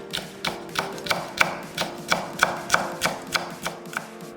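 A cheongyang chili pepper, halved and seeded, is sliced on a cutting board, producing about fourteen crisp, evenly spaced knife taps close up with no talking.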